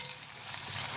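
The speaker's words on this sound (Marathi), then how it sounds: "लसण आणि हिरवी मिरची. मस्त तेलामध्ये लालसर असा रंग येऊ द्यायचा लसणाला" Garlic and green chili frying in hot oil in a kadhai, a steady soft sizzle throughout with no talk.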